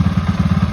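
A Cannondale motorcycle engine idles while warming up after its fuel system was primed, giving a brief, close, rough pulsing chug with steady rhythmic beats.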